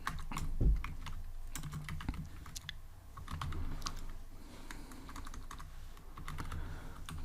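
Steady keystrokes on a computer keyboard while entering Java code, a dense irregular patter of close clicks running throughout with no talking.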